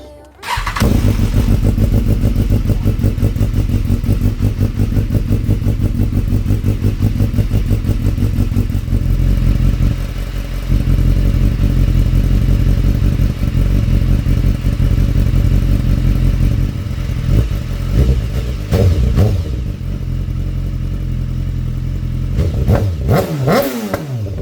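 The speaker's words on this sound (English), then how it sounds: "I'm gonna turn the bike on with the full titanium Akrapovic exhaust, which sounds unreal" A BMW S1000XR motorcycle fitted with a full titanium Akrapovic exhaust starts up and settles into a loud, close, throbbing idle, then gives a few sharp revs near the end.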